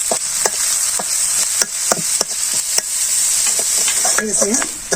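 Turmeric and coriander powder being stirred and fried with small fish in a pan, steady close sizzling under sharp repeated spatula scrapes, with a brief voice near the end.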